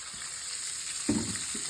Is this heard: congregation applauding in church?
no